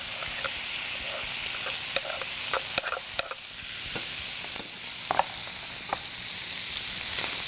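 Shrimp and garlic sizzle in a pan as a steady close frying hiss, broken by scattered clicks and taps of stirring, with no voices.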